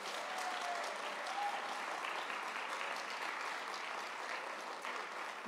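A church congregation applauds steadily and fairly loudly, a dense wash of clapping from many hands that carries on without a break from start to finish.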